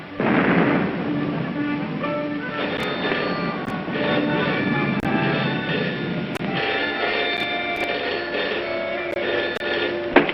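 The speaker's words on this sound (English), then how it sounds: "Listen, guns again." Anti-aircraft guns firing in a radio drama, a rumbling barrage of booms and rolling thuds that fills the scene continuously, loud and sustained with sharp cracks breaking through.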